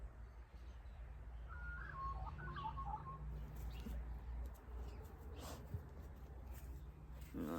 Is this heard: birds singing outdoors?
yes